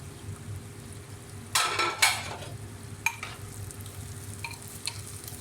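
A spatula stirs bitter gourd and onion sabzi frying in a pan, giving a few brisk scraping bursts and light clinks over a quiet, steady sizzle.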